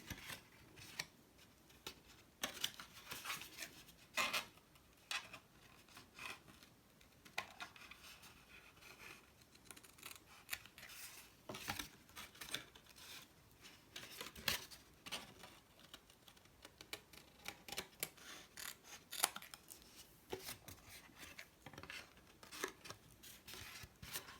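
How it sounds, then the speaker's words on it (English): Quiet, repeated snips and crisp slicing of paper by scissors, close and fairly soft, continuing steadily with brief pauses. "to cut the excess, just take your scissors"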